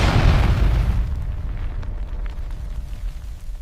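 A heavy, deep explosion of an RDX belt bomb bursts out at once, then fades into a long low rumble that lingers.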